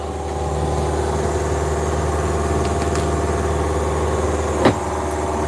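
Sailboat engine running at sea between Fiji and Vanuatu, a constant loud mechanical drone with a steady low rumble and even hum, alone, with a brief knock near the end.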